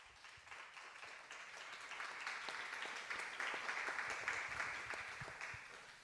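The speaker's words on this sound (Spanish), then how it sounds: "Por favor, un aplauso para el señor Bordas." A dense patter of many hands clapping at once fills the room as a conference audience applauds Mr. Bordas, steady and fairly soft, swelling slightly toward the middle before easing off.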